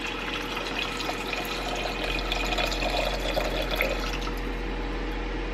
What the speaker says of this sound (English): Now we're going to add I believe this is a 14 ounce can of chicken stock